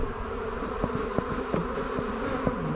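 Honey bees buzz as they crowd into a hive set in a garden ornament, a dense, continuous drone with sharp clicks of individual bees flying close past.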